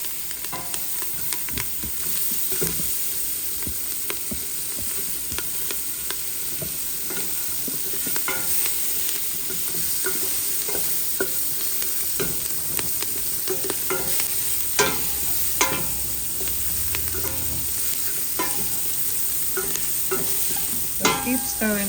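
Scallion, thyme and garlic sizzle steadily in turmeric in a hot pan while a spoon stirs them, clicking and scraping now and then. The frying is close and constant and carries on without a break, with no talking.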